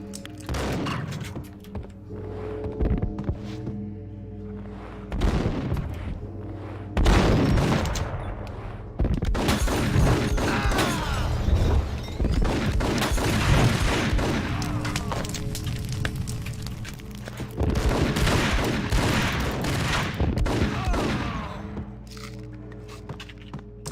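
Gunfire in the PC shooter Max Payne: dense bursts of rapid shots and booming impacts over a steady game soundtrack, loud and continuous through most of the stretch with brief lulls.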